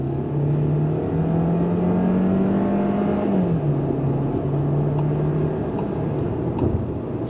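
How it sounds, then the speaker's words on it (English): A 2025 VW Taos subcompact SUV with an 8-speed automatic pulling hard on the highway, engine drone rising in pitch, then a smooth upshift dropping the tone under constant road and wind roar, heard from inside the cabin. "Let's see how she drives on the highway. On throttle, here we go."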